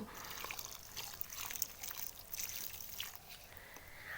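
Water is poured over newly planted marigold seedlings in a bed made with vegetable peels, a faint close trickle and splash running steadily without voices.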